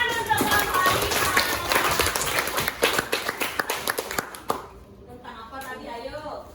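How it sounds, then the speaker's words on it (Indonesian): Classroom children clap for a group, a dense burst of fast claps that turns into a few sharper separate claps before stopping, with voices around it. "Oke, tepuk tangan untuk kelompok 5."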